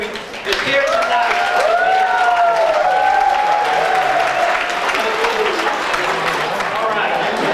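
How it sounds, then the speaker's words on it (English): A large banquet crowd at a postal carriers' branch retirement dinner applauds the retirees, dense clapping rising quickly and holding steady and loud, with faint cheers mixed in. "Give a hand to all the retirees that is here tonight"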